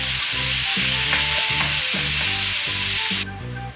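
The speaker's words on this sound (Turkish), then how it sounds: "Ve etimizin suyunu çekene kadar kavurmaya bırakıyoruz." Meat sautéing for sac kavurma on a hot sac pan gives a loud, steady, close sizzle with rhythmic scraping strokes of stirring throughout, and no voices.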